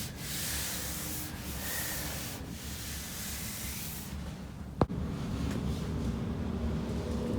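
An electric sander smooths bodywork on a 1968 Chevrolet El Camino, giving a steady, close hissing rasp that eases briefly and continues, with a sharp click near the middle.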